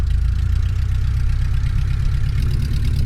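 A Luscombe light aircraft's piston engine runs while taxiing on a high-altitude runway, a loud steady low-pitched drone with a pulsing throb heard from inside the cabin, with no talking.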